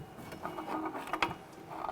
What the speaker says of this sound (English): you're going to pry outward evenly on the axle itself